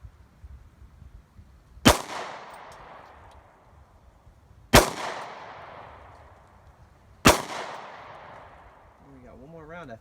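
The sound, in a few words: M&P Shield 9mm pistol firing aluminum ammo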